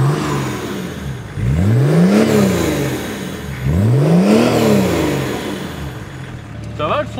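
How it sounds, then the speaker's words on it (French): BMW engine fitted in a 4x4 revved with two throttle blips, each a loud swelling and falling roar close by, with people talking around it. "je mets un ou deux coups de gaz et puis c'est bon là"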